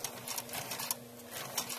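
A sewing machine runs a zigzag stitch on a tallit, giving a steady, fast mechanical whir and rattle at low level for a couple of seconds, with no talk.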